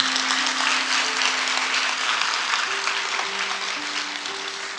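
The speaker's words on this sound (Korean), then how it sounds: "다시 한번 찬양대를 통해서 하나님이 영광 받을 수 있도록 하나님께 영광의 박수 한번 부탁하겠습니다." Church congregation applauding the choir during a Sunday worship service, a steady, dense wash of clapping sustained throughout with a faint held tone underneath and no talk.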